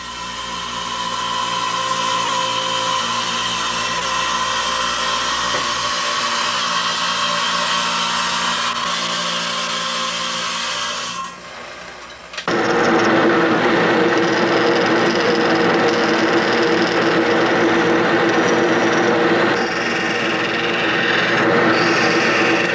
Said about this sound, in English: The next process, the next step, is to go ahead and trim out the shell.